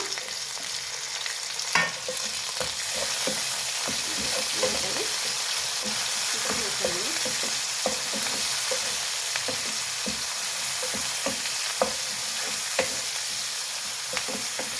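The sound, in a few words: onion and tomato frying in a pan for buttermilk sambar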